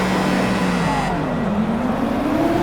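Race car engines in the Assetto Corsa video game roar at a standing start, one steady loud engine note climbing in pitch as the car accelerates away, with a constant dense mechanical drone beneath.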